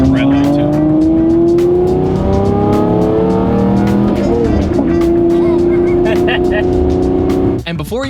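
Lamborghini Murcielago driving and accelerating, a loud, close engine drone climbing steadily in pitch, with a brief word of talk over it and a sharp shift near the end.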